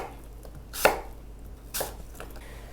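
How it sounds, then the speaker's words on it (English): A knife chops through fresh pineapple on a cutting board, two distinct sharp chops about a second apart, close and clear with no talking. "a half cup of this pineapple that we're gonna cut up"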